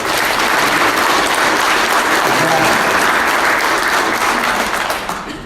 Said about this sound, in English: you just got a resounding applause for that